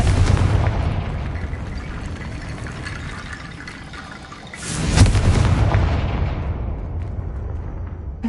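A Confringo fire-blast spell in Hogwarts Legacy on PS5: a loud rumbling boom that decays slowly, then a second sharp blast around the middle that swells and gradually fades away, with no voices.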